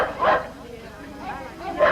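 Dog barking in an old television series, two short yips at either end with a quieter whimpering bark between them, heard at moderate distance with a voice talking around it.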